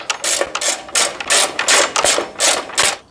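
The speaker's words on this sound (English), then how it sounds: "we just have a few more bolts to tighten up" Ratchet tightening bolts on a Craftsman snowblower, a close, loud series of about eight rhythmic raspy clicking strokes in quick succession.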